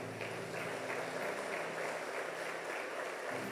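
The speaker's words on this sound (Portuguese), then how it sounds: "Vamos aplaudir Jesus," A church congregation applauds together in a steady, sustained wash of clapping that runs the whole way through, fairly soft and distant, with a low tonal hum underneath.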